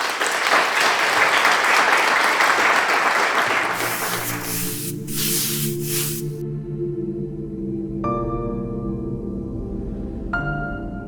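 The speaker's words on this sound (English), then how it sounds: "We're going to welcome Chris onto stage. Let's give him a warm round of applause." A launch-event audience gives a warm round of applause, dense clapping for the first few seconds that gives way to sustained tonal music, with a few bright chimes near the end.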